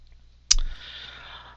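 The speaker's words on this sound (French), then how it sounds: "Donc je clique sur le bouton Login." A single sharp computer mouse click on a login button, one crisp tap with a brief fading tail in an otherwise quiet room.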